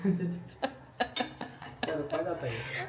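Metal kitchen utensils, dishes and cutlery clink and clatter in a series of sharp knocks as they are set down and put away nearby, with voices talking in the background.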